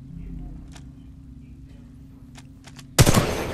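Player's weapon firing in the video game Titanfall 2, a loud sudden burst of shots near the end after quiet low rumble and a few faint clicks.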